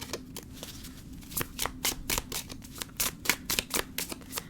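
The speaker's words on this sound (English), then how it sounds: "I'm going to shuffle." A deck of tarot cards is shuffled by hand up close, giving a run of crisp riffling flutters and slaps at an irregular pace with no talking.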